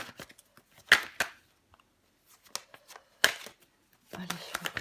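Tarot cards handled and laid out on a table, a few sharp flicks and slaps between quiet pauses, ending in a burst of shuffling rustle, close and fairly soft.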